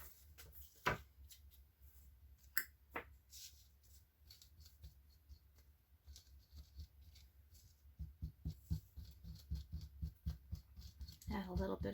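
Scissors snip through paper for a junk journal in a few sharp, sparse cuts, then a quicker run of close crisp snips near the end.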